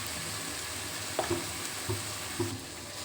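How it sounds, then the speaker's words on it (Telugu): Okra fry with chili powder gets stirred in a pan, a few soft scraping strokes heard close over a constant frying sizzle. "కారం వేసుకున్న తర్వాత బాగా మిక్స్ చేసుకొని"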